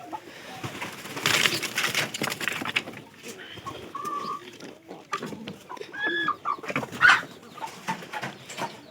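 A broody hen in a poultry and pigeon shed gives soft, intermittent clucks and low calls at close range, with other birds' calls and faint rustling in the background.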